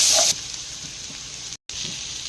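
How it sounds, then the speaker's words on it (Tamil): Soft, steady sizzle of garlic frying in butter in a pan, a constant hiss with a brief louder burst at the start and a short gap near the end. "பட்டரில் போட்டு நல்லா ஃப்ரை பண்ணலாம்."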